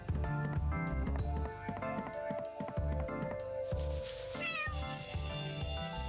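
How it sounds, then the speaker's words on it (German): A kitten meows in a video game, its cries sitting over dense, continuous game music with steady beats and sustained tones throughout. "Das Kätzchen ist endlich mal lieb und faucht nicht."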